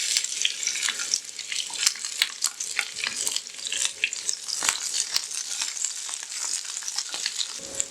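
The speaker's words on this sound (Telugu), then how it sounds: "తీసుకుని నేను ఫస్ట్ క్యాప్సికమ్ అనేది కొద్దిగా ఫ్రై చేసేసుకుంటాను." Capsicum frying in oil in a pan for a masala curry, a steady close sizzle with crackling pops and occasional stirring scrapes throughout.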